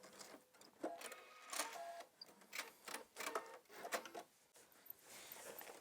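A domestic sewing machine back stitching at the end of a seam while a waistband and zipper are sewn, quick irregular bursts of needle clatter, faint and close, with no talking.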